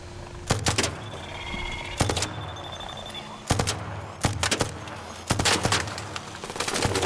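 Wasp drone enemies fire in the video game Arc Raiders: several sharp bursts of gunfire crack out at uneven intervals over a low background hum, fairly loud and close.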